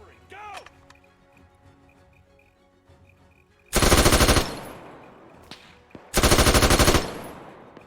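Two long, loud machine gun bursts of suppressing fire in a World War II French Resistance ambush game, each lasting under a second or so, with quieter ambient game sounds and brief talk between.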